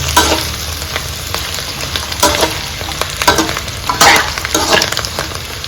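Food roasting in a hot pan in a home kitchen, a continuous sizzle broken by repeated scraping stirs of a utensil against the pan, close and fairly loud with no talk.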